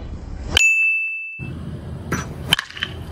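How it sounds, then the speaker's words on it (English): A 2023 Rawlings ICON BBCOR composite baseball bat hits a ball with a sharp, ringing ping that sustains briefly, followed later by a second, fainter impact amid outdoor background noise. "This is the best composite bat."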